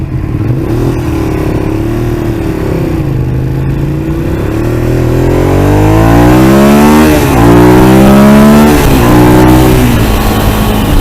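Ducati Monster 821 motorcycle accelerating hard, loud close engine roar climbing through gears with rising pitch sweeps and brief dips at each shift.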